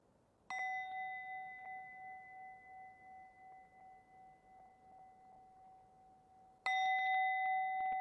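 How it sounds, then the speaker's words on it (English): A meditation bell rings out with a clear, sustained tone that slowly fades, then is struck again near the end, each strike bright and close in a quiet setting. "gently coming out as you hear the bell"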